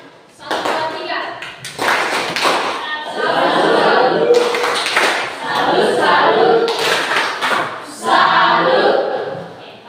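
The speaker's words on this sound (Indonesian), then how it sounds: "tepuk tangan untuk kelompok 1" A classroom applauds a student group with bursts of hand clapping that rise and fall in several waves, mixed with children's voices and chatter.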